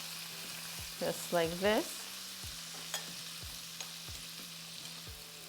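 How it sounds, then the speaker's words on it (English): Minced garlic and sun-dried tomatoes fry in a pan, a soft steady sizzle with repeated stirring scrapes at an even pace, while a voice speaks briefly near the start. "Also, we have minced garlic. Fry that for a few seconds"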